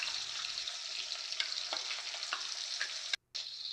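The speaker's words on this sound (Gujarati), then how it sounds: "કઢાઈમાં થોડું તેલ અને કાંદાને ફ્રાય થવા દેવાના છે." Onions frying in a little oil in a kadai give a steady, close hiss and crackle with occasional stirring clicks, broken by a brief silent gap near the end.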